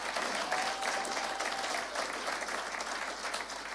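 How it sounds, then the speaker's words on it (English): A congregation applauds at a home care fellowship's 40th anniversary service, honoring four founding members; steady, dense clapping fills the room continuously at moderate volume with no pauses. "Give them a big clap."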